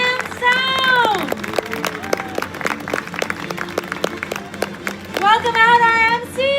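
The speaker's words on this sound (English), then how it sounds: "Let's give a round of applause for our first year props, set design, costumes, and sound." An audience at a live zoo show's Spring Spectacular claps in a dense, continuous patter, while voices call out and shout over it and tonal music or sounds rise and fall.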